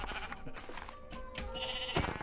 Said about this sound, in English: And the sheep.